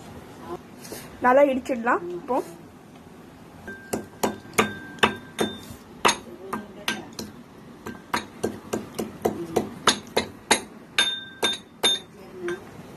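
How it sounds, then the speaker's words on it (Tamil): A pestle pounds cardamom in a mortar in repeated sharp, ringing strikes at a steady rhythm, close by, after a brief bit of speech at the start. "இப்போ நம்ம ஏலக்காவை இதில் போட்டு நல்லா இடிச்சிடலாம்."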